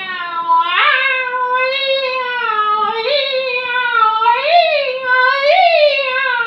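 A young singer voices a musical meow from Ravel's L'enfant et les sortilèges, imitating a cat with a series of sliding, wavering sung meows, loud and close, with no accompaniment.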